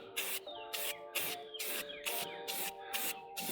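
Short bursts of an aerosol spray can hiss in a regular rhythm, about seven close, even passes, while paint goes onto a car rim being repaired for curb rash.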